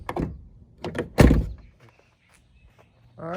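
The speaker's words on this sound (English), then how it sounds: "We'll close the door," A Dodge Ram 1500 truck door swings shut with one loud, solid thunk in a garage workshop, preceded by a few lighter knocks and followed by quiet, then a brief tonal hum.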